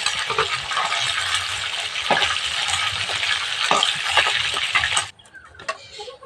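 Chicken pieces fry in hot oil with a loud, continuous crackling sizzle, broken by occasional clinks and scrapes of a utensil stirring, before the sizzle drops away near the end.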